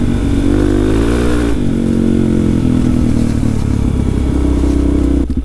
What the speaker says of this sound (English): Don't hit the throttle too hard, you're gonna dump it.